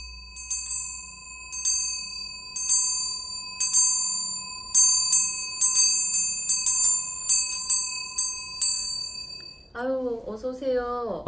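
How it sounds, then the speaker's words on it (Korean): A small bell rings in repeated bright strikes, some single and some in quick clusters, each with a long ringing decay; a voice starts speaking near the end. "이 종이 울려 퍼져가지고"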